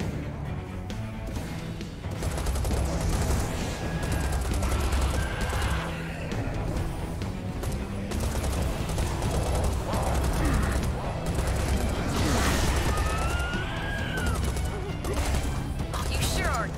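Gunfire in the shooter game Serious Sam 4, a steady, dense clatter of weapons and mechanical effects running throughout, loud and busy, with voices talking over it.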